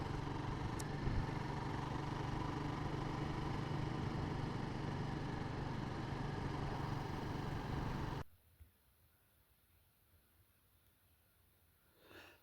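A motorbike rides along country lanes near Wirksworth, its engine a steady loud drone for about eight seconds before cutting away to near silence, with a faint rise at the very end.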